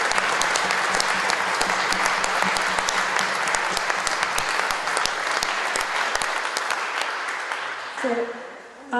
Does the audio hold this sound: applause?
yes